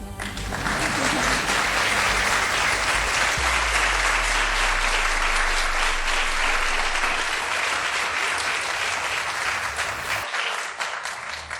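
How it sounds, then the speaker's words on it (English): An audience of parents and administrators gives loud, sustained applause, a dense wash of many hands clapping that holds steady for about ten seconds before easing slightly at the end. "Yes, you could applaud."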